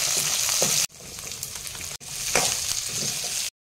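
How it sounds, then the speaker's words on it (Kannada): Mustard seeds, curry leaves, green chillies and onion fry in hot oil for a tempering, a steady close hiss and crackle of sizzling broken by two abrupt cuts, with no talking. "ಸ್ವಲ್ಪ ಎಣ್ಣೆ ಹಾಕ್ಬಿಟ್ಟು ಸಾಸಿವೆ, ಕರಿಬೇವು, ಹಸಿಮೆಣಸಿನ್ಕಾಯಿ, ಈರುಳ್ಳಿ ಹಾಕ್ಬಿಟ್ಟು ಸ್ವಲ್ಪ ಬೇಯಿಸ್ಬೇಕು."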